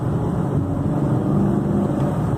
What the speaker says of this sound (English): moonroof open so you can hear the engine a little bit better